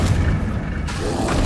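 Confringo, an explosive spell in Hogwarts Legacy, hits with a loud, dense booming blast that rumbles continuously, with the low end swelling again near the end.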